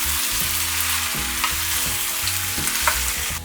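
Tomatoes cook down in a hot pan with a steady close sizzle and bubbling, alongside a low pulsing hum and a few soft stirring ticks, with no voices.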